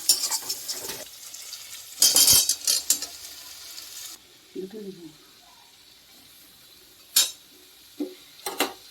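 Boiled jackfruit and potato pieces are tipped into a pan of cooked-down spiced masala and stirred, producing a few clattering scrapes and bursts of sizzle, with quieter gaps and a spoken voice in between.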